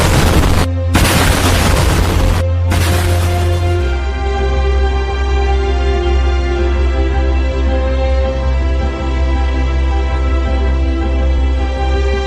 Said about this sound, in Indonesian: Dia ditembak dan mobilnya dilempar granat hingga meledak.